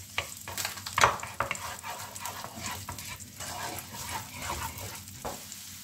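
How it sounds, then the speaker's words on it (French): Onion frying in olive oil in a pan crackles quietly while a utensil scrapes and stirs, with irregular clattering knocks over a soft continuous sizzle and no talking. "Je verse l'huile d'olive dans ma poêle. Et on va faire revenir tous les légumes. Donc je verse les oignons, enfin l'oignon."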